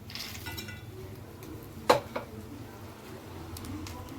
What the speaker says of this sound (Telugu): ఇదిగో ఇప్పుడు దీంట్లో మనము వేయించి పెట్టుకున్న జీడిపప్పులు,